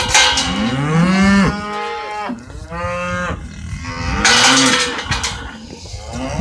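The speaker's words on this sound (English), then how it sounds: "Here's some of the calves" Young calves in a spring cattle corral moo and bawl loudly and close by, several drawn-out calls overlapping one after another with no talking.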